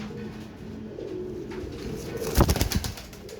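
Pigeons cooing among tiger, dub and Rampuri fancy birds while a male patta pigeon is handled: soft low coos run throughout, followed by a louder burst of rustling or wing flaps near the end.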